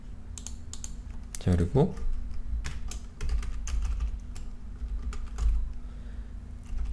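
Fingers tap on a computer keyboard in quick, irregular clusters of clicks while someone talks over the typing.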